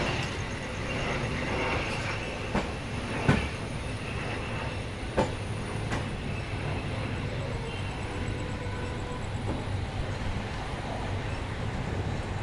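Railway carriages roll through a station during heavy rain, a steady dense rumble of wheels and cars with a few sharp clanks and wheel squeals standing out, nearby and continuous throughout.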